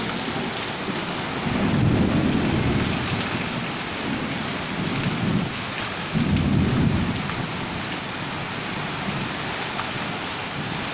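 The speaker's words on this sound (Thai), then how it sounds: "หลบฝนหลบพายุก่อนออกมาได้ไหมลูก" Heavy rain pours steadily during a thunderstorm while deep rolls of thunder swell up three times, loud and close, with no voices over the downpour.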